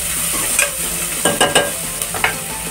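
Onion frying in a pan for stuffed brinjal, a steady close sizzle with a few sharper stirring scrapes and clinks breaking through at intervals.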